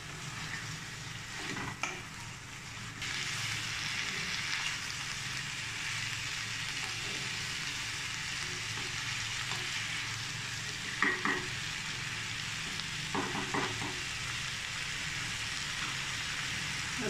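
Carrots and peas frying in a pan, a steady sizzle carrying on throughout while a utensil stirs now and then, with a few sharper scraping clatters near the middle and end.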